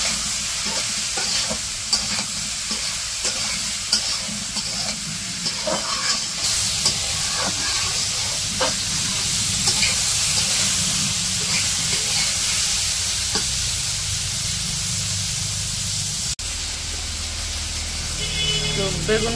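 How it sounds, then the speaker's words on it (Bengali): Eggplant slices frying in a pan with turmeric, chili and salt at a village cooking setup outdoors, a steady broadband sizzle running throughout with occasional stirring scrapes and brief voices in the background. "তো বেগুন ভাজি করতেছে, বেগুনগুলো একবারে দিয়ে দিচ্ছে, তারপর হলুদ মরিচ লবণ দিয়ে দিচ্ছে,"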